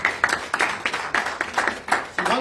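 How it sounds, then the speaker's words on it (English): Audience applause during a live transformation seminar: a brief burst of scattered hand claps from a crowd, moderately loud and close, with no talking over it. "Give yourself a round of applause."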